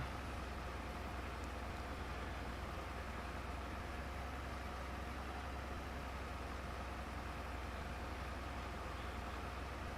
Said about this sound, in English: This tractor is given a hard time in this vineyard today.